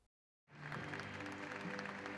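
After a moment of near silence, a hall full of students at a junior high school graduation ceremony bursts into sustained applause. The thick, even clapping holds steady until the end as ninety-six graduates are welcomed in.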